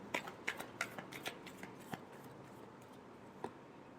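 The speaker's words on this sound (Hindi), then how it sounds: "last shuffle" Tarot cards are shuffled with a quick series of crisp riffling snaps that thin out into occasional soft taps, quiet and close with no talking.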